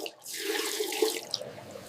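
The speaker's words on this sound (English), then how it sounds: "The bucket is filling up fast." Milk pours steadily into a bucket on a cartoon farm, a continuous liquid gush of moderate loudness heard alone.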